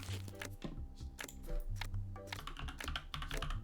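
Fast, uneven clatter of a computer keyboard as a message is typed to a TikTok contact, close and fairly quiet, with brief pauses between bursts of keystrokes.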